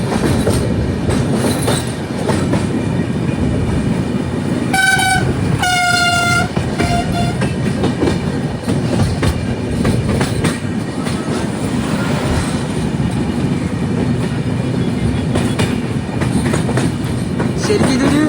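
A Humsafar Express train rumbles steadily across a rail-cum-road bridge over a large river, with a continuous clatter of wheels and a brief horn blast or squeal near the start, loud and close throughout.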